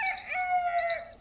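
Free-range Aseel rooster crowing among foraging chickens: one drawn-out, tonal crow lasting about a second, fairly clear and close, with no voices.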